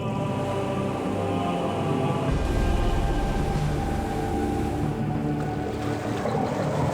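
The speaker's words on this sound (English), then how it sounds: "You notice how we're backing the boat up?" A boat reverses on the open ocean: a steady engine rumble blends with the wash of water and wind. It stays constant and close, and no one speaks.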